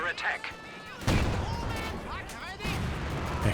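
Pack howitzer artillery fire in Company of Heroes 2, with heavy booming blasts near the one- and two-and-a-half-second marks amid ongoing battle noise, overlapping a commentator's voice.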